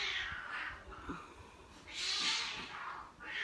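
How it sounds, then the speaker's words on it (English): Cats fighting indoors, with repeated harsh yowls and hissing bursts rising and falling over several seconds, fairly close and moderately loud, with no talking. "And my cats are fighting."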